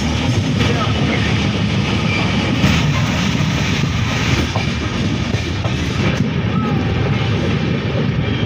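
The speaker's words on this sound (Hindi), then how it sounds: "और ट्रेन यहाँ से खुल चुकी है" Shaktipunj Express passenger train running on rails, heard from inside a carriage as a steady, loud rumble with faint rail clatter, continuous throughout.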